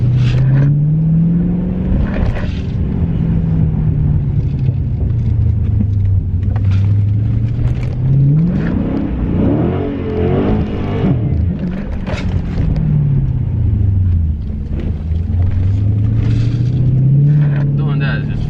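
A Dodge Challenger Scat Pack slides and drifts on a bad, weather-worn road, its engine surging and falling in repeated long swells over constant loud, close road roar.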